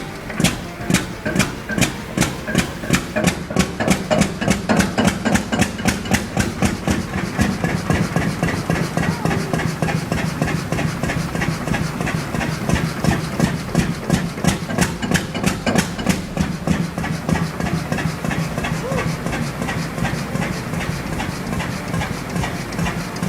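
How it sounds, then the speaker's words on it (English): A 20 horsepower Fairbanks Morse antique engine runs alone and close, its loud, slow, steady thumping rhythm repeating evenly without pause. "This 20 horsepower Fairbanks Morse engine comes to life with that iconic,"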